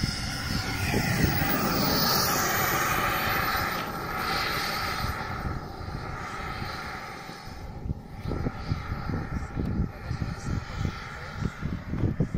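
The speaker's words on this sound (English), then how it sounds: "Of the FMS Viper converted to the turbine with Kingtech" An FMS Viperjet model jet converted to a Kingtech 45G4 turbine engine flies overhead, a loud, steady turbine whine and roar that fades and returns, with wind noise and faint voices nearby.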